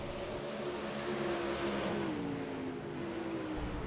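Super Late Model race cars at speed on a short track, a steady engine drone with a rising-then-falling whine as a car passes, continuous and moderately distant with no talk.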